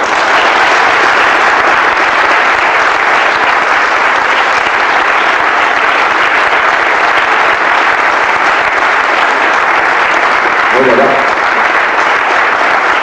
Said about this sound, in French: je vous demanderai, après ce petit speech, de tourner vers eux vos applaudissements